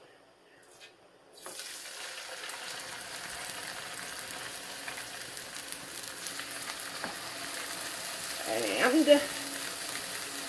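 Brown sugar salmon frying in a hot pan, a steady close sizzle starting after a quiet moment and continuing throughout, growing slightly louder near the end.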